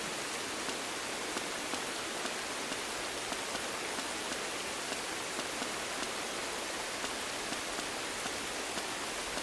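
Steady rain on a spring afternoon in Tales of the Shire, a dense, even patter of drops and hiss, continuous and moderately soft, with no talking.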